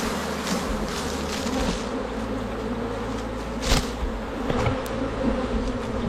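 A swarm of honeybees shaken into a hive hums in a dense, steady buzz close by, with a couple of brief thumps as the bees are knocked in.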